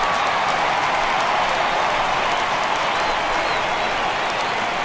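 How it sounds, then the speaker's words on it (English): Home crowd in a baseball video game gives a sustained ovation, steady dense applause and cheering held at an even level throughout. "he receives a nice ovation from this home crowd"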